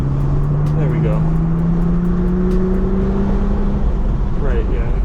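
A BMW accelerates on a race track, its engine note climbing steadily in pitch as a loud, close drone fills the cabin.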